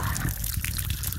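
Water flowing from a faucet at a rural water point used for washing and bathing, a short continuous trickling pour heard up close at low level.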